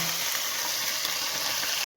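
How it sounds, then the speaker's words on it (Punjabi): Tempering for homemade saag with ginger sizzles loudly and steadily in hot fat, a close continuous frying hiss that cuts off abruptly near the end. "ਆ ਵੇਖੋ ਅਸੀਂ ਕੱਟਦੇ ਹਾਂ ਸਾਗ ਦਾ ਤੜਕਾ"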